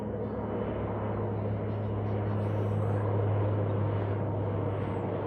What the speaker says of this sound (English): Dude, that's a tiny plane.